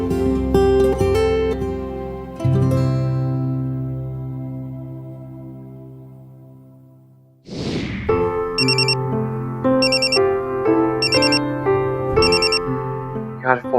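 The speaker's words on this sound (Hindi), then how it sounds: "यार फोन क्यों नहीं उठा रही है?" A phone rings in repeated electronic bursts after a sustained musical passage fades out, loud and close.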